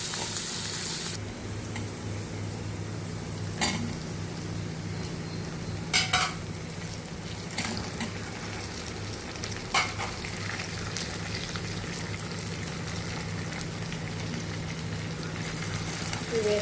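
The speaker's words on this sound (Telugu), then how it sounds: "నేను వంకాయ ముక్కలు, ముల్లంగి, బెండకాయ ముక్కలు వేసి కొంచెం ఫ్రై చేస్తాను." Brinjal, radish and okra pieces sizzle steadily in a hot pan, with a continuous frying hiss broken by several sharp scrapes and clinks of a spoon stirring against the metal.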